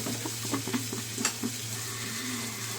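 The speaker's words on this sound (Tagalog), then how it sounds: "Nagluluto ng beef cubes niya." Beef cubes for beef steak sizzle in a pan as a child cooks and stirs them. A soft, steady frying hiss carries scattered light scrapes and taps of the utensil, with no speech.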